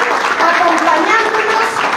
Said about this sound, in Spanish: Un aplauso para ella, porque está aquí